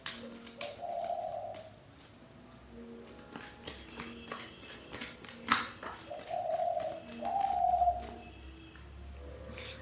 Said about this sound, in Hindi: तो इसीलिए आपको ना तरह तरह की आवाज़ें सुनने को मिलेंगी पक्षियों की